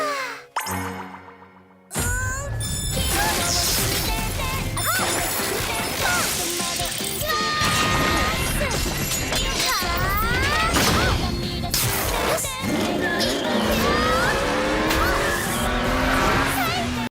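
Sayu curling into a rolling ball in Genshin Impact, a car-like whirring with tire-squeal skids and crash-like bumps, loud and continuous over busy game music and effects for most of the stretch after a short quiet start.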